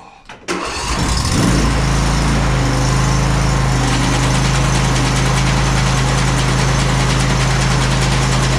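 A John Deere S140 riding mower, running after a damaged transmission drive belt was put back on, starts with a sharp catch and settles into a loud, steady close-up engine drone.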